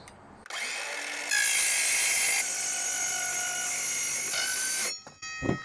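A power cutting tool runs through refrigerator sheet metal down the middle with a loud, sustained high-pitched whine that steps up in pitch partway, holds for several seconds, then winds down near the end.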